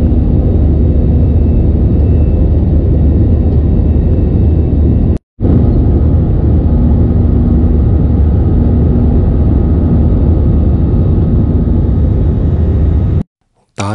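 A Thai Vietjet airliner's engines drone steadily during the climb on a flight to Chiang Mai, heard from inside the cabin. The low rumble is loud and continuous, cut by two brief dropouts.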